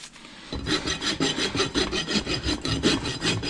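A rasp files a pony's hoof during a barefoot maintenance trim, giving about fourteen rhythmic, scratchy rubbing strokes, close and fairly loud, with no speech.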